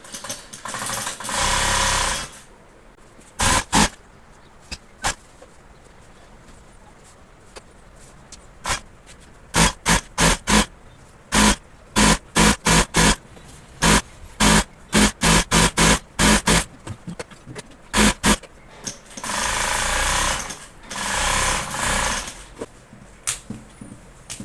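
A sewing machine stitches a fabric hair bonnet in bursts, with long whirring runs alternating with quick short stitch strokes and brief pauses, close and loud, with no speech.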